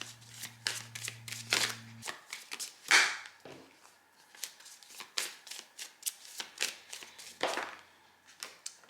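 Tarot cards are shuffled and dealt onto a surface, giving a quick run of soft riffling slaps and flicks, fairly close and quiet, with a faint hum in the first two seconds.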